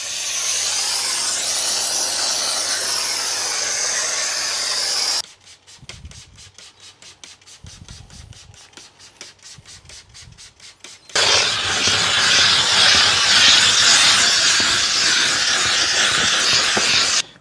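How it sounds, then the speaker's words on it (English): Steam cleaner working on the carpets of a 15-year-old Subaru WRX, a loud steady hiss that cuts out midway for a few seconds of quieter rubbing and clatter, then returns at full strength. "now we're going to steam and clean these up"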